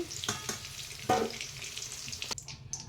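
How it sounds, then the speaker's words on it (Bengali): Onion and salt go into hot oil already used for frying potatoes for a chicken curry, giving a soft, steady sizzle with a few sharper bursts and stirring clatters. "ওই একই তেলে দিয়ে দিচ্ছি পেঁয়াজ দিয়ে দিচ্ছি নুন"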